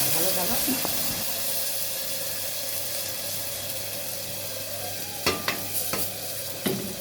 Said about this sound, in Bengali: দিয়ে পেঁয়াজগুলো ভালোভাবে নেড়ে নেব